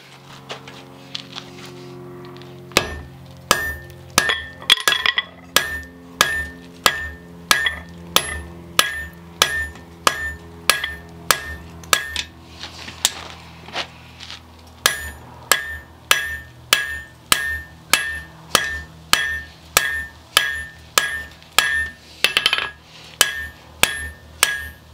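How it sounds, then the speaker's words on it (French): Blacksmith hammering hot iron on the edge of an anvil while forging flat-nosed pliers, loud ringing metallic strikes in a steady rhythm, roughly one blow per second after a brief pause at the start, with no talking. "on va venir poser le fer sur le bord de l'enclume et frapper ici"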